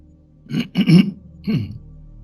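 A person clears their throat several times in quick, rough bursts, close up, followed by a short final rasp.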